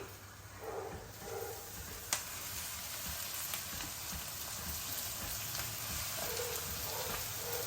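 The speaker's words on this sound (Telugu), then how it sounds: "ఇది వేగుతుంది కదా" Gongura curry ingredients sizzle and fry in a pan, a steady close crackle that runs without a break and carries a faint stir or tap now and then.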